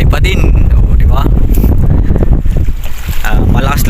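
Strong wind buffets a small fishing boat on open water during stormy weather, a loud continuous rush of wind noise across the microphone with sea splashing beneath and a voice speaking briefly.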